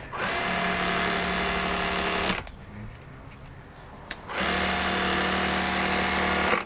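A Fanttik NB8 cordless folding pressure washer runs on its lowest setting, a loud close motor whine with a steady tonal hum that cuts out for about two seconds midway, then starts again.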